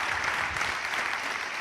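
Audience applause at an interview event, a dense steady patter of many hands clapping, fairly loud and sustained without a break.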